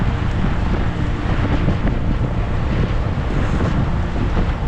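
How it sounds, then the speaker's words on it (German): Strong wind buffets the microphone during a group road-cycling ride near Westensee, producing a loud, constant roaring rumble that fills the whole stretch with no talk over it. "Ist doch recht kräftig der Wind."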